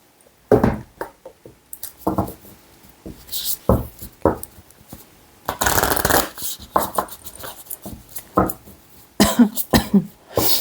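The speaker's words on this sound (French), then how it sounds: "Petite toux." Several short coughs and throat-clearing bursts scattered through the stretch, close by, with rustling and handling noises between them.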